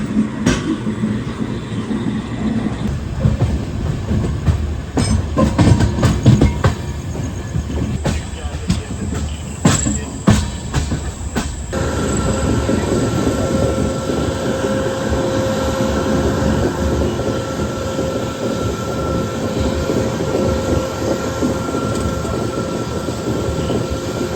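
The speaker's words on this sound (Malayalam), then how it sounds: "നമ്മുടെ ബംഗളൂരു എക്സ്പ്രസ് അങ്ങനെ മംഗളൂരു സെൻട്രലിൽ നിന്ന് വിട്ടു" Kannur–KSR Bengaluru Express rolling out of Mangaluru Central: a loud, steady rail rumble with scattered clattering knocks early on, then settling into a continuous heavy drone.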